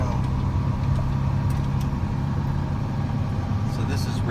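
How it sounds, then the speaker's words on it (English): A 2016 Kenworth T370 wrecker truck with a Paccar PX engine cruising down the road, heard from inside the cab as a steady low drone partly masked by the air conditioning fan, with faint ticks on top. "the AC kind of drowns out the engine noise a little bit"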